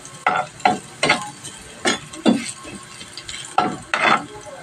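Garlic frying in a pan while being stirred, short sizzling scrapes of a spatula in an irregular rhythm, roughly eight strokes, close and clear with no talking.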